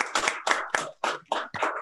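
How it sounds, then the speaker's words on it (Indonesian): Applause at a hackathon awards session, a short run of about seven crisp, separate hand claps in an even rhythm, close and fairly sparse, as if from only a few people. "Kita berikan aplaus."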